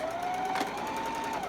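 A sewing machine runs in one steady, close whirring burst as it stitches across a zipper on a wet bag, with no voices over it.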